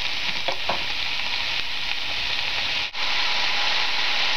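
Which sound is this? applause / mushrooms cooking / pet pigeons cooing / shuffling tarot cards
mushrooms cooking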